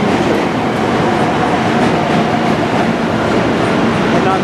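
A subway train crosses the Manhattan Bridge, a loud, close, steady rumble with rhythmic wheel clatter on the tracks that continues throughout without a break.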